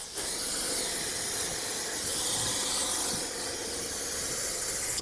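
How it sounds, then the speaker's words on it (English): Brake parts cleaner sprays in a steady, sustained aerosol hiss onto a Toyota Camry front wheel hub, close and continuous for several seconds with no talking. "Rinse it all off using some brake parts cleaner."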